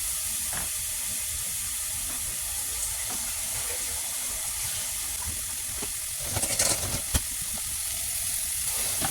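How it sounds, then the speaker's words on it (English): Seasoned ground beef searing in a hot sauce pot, a steady soft hissing sizzle throughout with a few sharper crackles and pops near the end, no talking. "we're going to add this wonderfully seasoned ground beef, simply seasoned ground beef, to a hot sauce pot. And we're just going to let that sear off."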